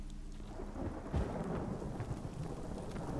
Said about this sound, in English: Oh, it's a thunderstorm.